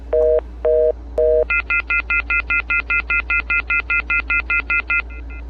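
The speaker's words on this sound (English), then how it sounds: "this is the off the hook that just beeps rapidly" A few dialing tones sound first, then a rapid string of sharp, evenly spaced electronic beeps repeats loudly, like a phone left off the hook.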